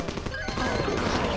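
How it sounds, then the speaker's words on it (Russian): Rapid gunfire bursts from the Castle Doombad video game, a dense crackling barrage running steadily through the short moment with a harsh, busy texture. "Я слышу выстрелы."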